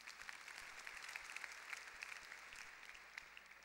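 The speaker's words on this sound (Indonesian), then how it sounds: "Mari kita beri tepuk tangan, tidak ragu-ragu, saudaraku." Congregation applauding during a Bethany church worship service, steady dense clapping from a crowd, faint and distant throughout.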